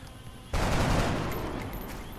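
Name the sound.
gunshots in the video game XCOM: Enemy Within Long War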